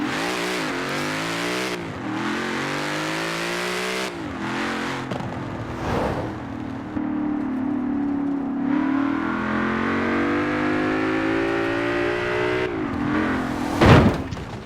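In Forza Horizon 4, a car engine revs and accelerates through repeated gear changes, rising and dropping in pitch, with a loud sustained drive and a brief knock near the end.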